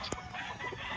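Short burst of a Tornado Hatch rooster crowing, close and fairly loud in a farmyard full of other chicken sounds.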